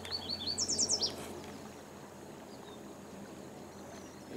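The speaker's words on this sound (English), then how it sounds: "Birds chirping in the background." A bird chirps outdoors by low water, a quick series of bright, fairly close tweets in the first second, then a quiet ambient background.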